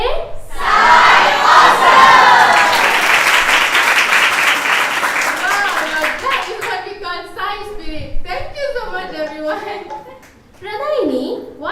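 Devotees at the Sri Sathya Sai Aradhana Mahotsavam evening program clap and cheer loudly in a dense crowd roar for several seconds. The noise then thins out and voices start talking.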